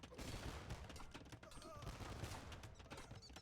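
Massed conquistador gunfire in Age of Empires II, a dense ongoing crackle of many overlapping shots at moderate level through the whole stretch, with no talk over it.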